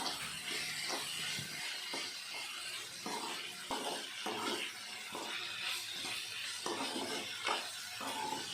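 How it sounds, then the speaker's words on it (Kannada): Capsicum vangi bath being stirred and fried in a pan, with repeated spoon scrapes and clinks over a steady soft sizzle, no talk. "ಉಪ್ಪು ಹಾಕಿದ ಮೇಲೆ ಈ ರೀತಿ ನೀಟಾಗಿ ಮಿಕ್ಸ್ ಮಾಡಿಕೊಂಡು ಫ್ರೈ ಮಾಡ್ಕೊಬೇಕು."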